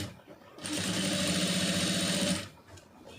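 An electric sewing machine stitches a blouse lining in one quick burst of under two seconds, a fast even whirring buzz starting and stopping cleanly amid quiet room sound.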